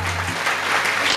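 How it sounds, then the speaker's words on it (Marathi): Audience applause at a Marathi kirtan, a brief, dense burst of many hands clapping close by, steady for about a second with no speech over it. "शाहीर आहे, टाळ्या वाजवा"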